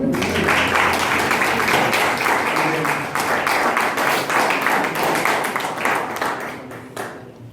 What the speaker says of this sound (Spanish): ¿Le puedo dar un aplauso